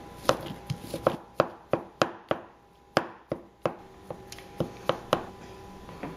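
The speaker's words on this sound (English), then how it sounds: "now I'm gonna just chop them up until they're nice and crumbly" A knife chops thawed Morningstar vegetarian sausage links into crumbles on a board. About fifteen crisp, close knocks come in a fairly steady rhythm, with no talking.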